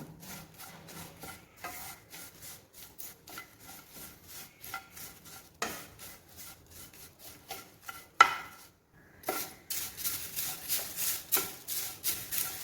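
Dry curry leaves rustle and scrape in a pan as a spatula stirs them in quick, repeated strokes while they dry-roast toward black, growing brisker toward the end.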